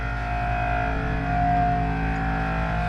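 A truck engine idles steadily nearby, a constant low droning hum with a slight buzzing rattle and no revving.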